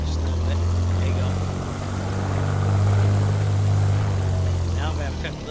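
Steady, loud drone of a Bonanza A36 single-engine propeller aircraft in flight, the engine note swelling slightly as throttle is added, with faint voices over the hum.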